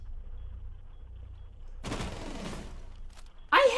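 Gunfire in Rainbow Six Siege, a short burst of rapid shots about halfway through over a quiet, low background rumble, followed by a sharper crackling impact at the end.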